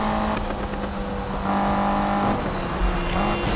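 Car engine with turbo in Need for Speed (2015), a steady loud drone of a racing motor holding revs before a brief surge of acceleration near the end, with no talking.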